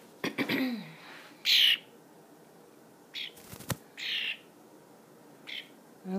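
A pet bird in a kitchen gives several short, bright calls spread over a few seconds, each a brief burst, with a wing flutter and quiet rustling between them.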